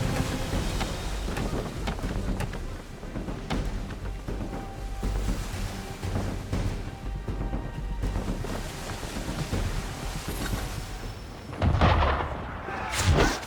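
Gunboats fire on a sailing ship at sea in Assassin's Creed III Remastered, with deep cannon booms rolling under steady wind and water noise, a heavier blast landing near the end.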